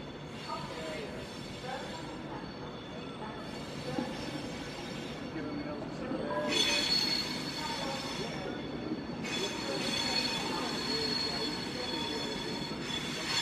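A Virgin Pendolino electric train, unit 390148, pulls into platform 5 at London Euston, with loud sustained wheel squeal and rumbling rail noise building as it arrives, plus station chatter in the background.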